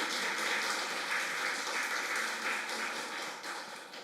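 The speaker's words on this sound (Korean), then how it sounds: "우리 태연이 위해서 격려해 주시고 박수 주시기 바랍니다" A church congregation at a Sunday worship service at Gwangmyeong Gwangsan Church claps together in steady, even applause that tapers slightly toward the end, heard from within the room without talking.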